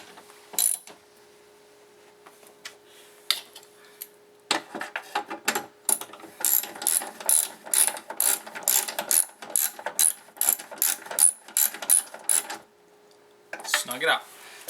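A ratchet tightens bolts on a Dodge Grand Caravan power window regulator, with rapid bursts of close, sharp metallic clicking separated by short pauses and some handling clatter.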